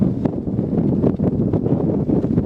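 A strong wind gust sweeps across the water during the Yale-Harvard rowing regatta, a continuous loud, rumbling roar buffeting the microphone with no speech heard.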